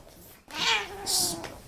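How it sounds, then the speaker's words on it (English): A cat lets out two drawn-out, complaining meows in quick succession, close and fairly loud, with a brief silence before the first. "The cat doesn't actually like what you're doing."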